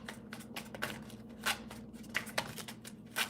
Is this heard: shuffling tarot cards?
yes